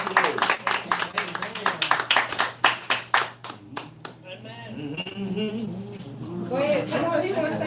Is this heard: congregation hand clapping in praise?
yes